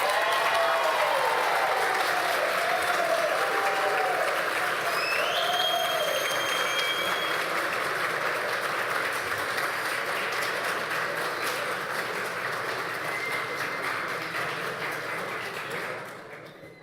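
Sustained audience applause fills a formal ceremonial session in a Brazilian municipal chamber honouring Spiritist Day, steady and dense, with faint voices and a brief whistle-like tone mixed in, slowly fading out at the end.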